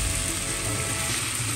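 Food sizzling in oil in a wok-style frying pan, a steady close crackling hiss with faint scraping and clicking, no voices.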